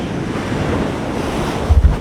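Ocean waves roll up onto a beach below the cliffs at Bottom Bay, Barbados, in calm conditions, a loud continuous wash of surf with wind buffeting the microphone and a couple of heavier thumps near the end.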